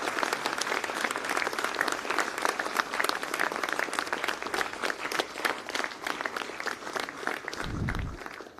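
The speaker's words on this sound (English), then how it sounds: "Thank you for that very generous applause, class of 2022." Audience at a school graduation ceremony for the class of 2022 applauding: steady, dense clapping from many hands at moderate distance, sustained for about eight seconds with a low thump near the end.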